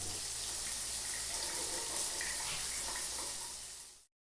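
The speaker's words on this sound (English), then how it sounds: "So after I've rinsed out all my shampoo," Water from a shower or tap runs steadily, rinsing shampoo out of curly hair on wash day: a loud, continuous close-up hiss and splash with no talk, cutting off abruptly near the end.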